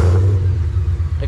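Ford Mustang Mach 1 engine idling with a deep, steady, loud rumble close by, over a brief moment.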